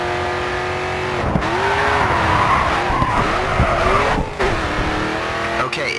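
Race car engine in the video game GRID 2 roaring steadily while drifting through tight turns, with continuous loud tire squeal and skidding, pitch rising and falling with the revs.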